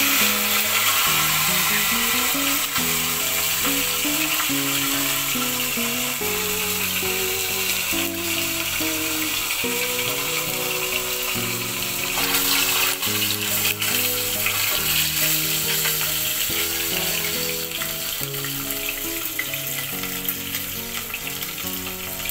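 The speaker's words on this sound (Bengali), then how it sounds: "তো মাছের মাথাটা ভাজি হতে থাকুক" A katla fish head rubbed with turmeric and salt fries in hot oil, a loud, dense, continuous sizzle and crackle that runs unbroken throughout.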